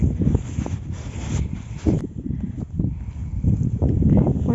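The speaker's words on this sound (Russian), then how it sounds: "а на поле всегда сильный ветер" Strong wind across an open farm field buffets the microphone in steady low rumbling gusts, with rustling and a few faint knocks throughout.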